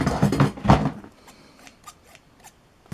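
Scissors snip open a tightly sealed package, a few short crisp cuts at close range following brief talk, with quiet pauses between snips.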